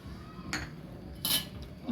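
Cooked pasta tossed with pasta masala, oregano and red chili flakes, heard as a soft scraping stir with a few sharp clinks of a spoon against a metal pan, close and fairly quiet.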